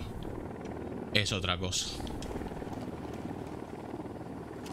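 A helicopter in the video game Ghost Recon Wildlands makes a steady rotor drone throughout, with someone speaking Spanish briefly over it.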